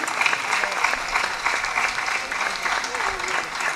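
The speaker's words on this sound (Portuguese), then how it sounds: "Um aplauso." Audience applause at the opening ceremony of a folklore festival in Barcelos, Portugal, a steady sustained clapping from a crowd lasting the whole moment, fairly even in loudness with no talk over it.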